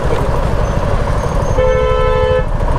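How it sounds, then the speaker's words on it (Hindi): A vehicle horn sounds during a motorcycle ride in hot-weather traffic: one steady, loud honk of just under a second rises over the continuous rumble of the road and engine. "इनको हॉर्न मारना है, जोर से मारे सुनाई नहीं देते इन लोगों को"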